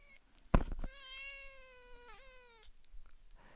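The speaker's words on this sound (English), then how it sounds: "This is the other cat. This is Tai Tai. He does not like being held." A cat that dislikes being held lets out a long, drawn-out complaining meow after a short sharp sound, close and clear with little else around.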